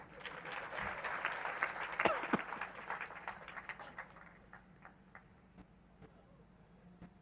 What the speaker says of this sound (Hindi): कविता खत्म हुई, ताली बजाओ।